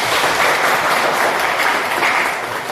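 A class of students claps together in a schoolroom, a dense, loud, even burst of applause heard close with no talk over it.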